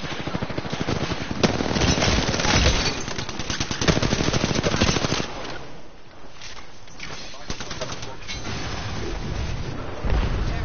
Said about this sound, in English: Shooting, they're gonna be shooting at us